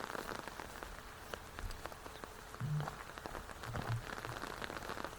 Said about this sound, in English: Appreciating the subtleties of the rain and the pacing of the rain.